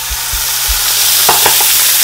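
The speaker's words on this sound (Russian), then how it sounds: "Это называется жарить." Food sizzles and crackles steadily in a hot pan, with a few soft stirring clacks and scrapes near the start.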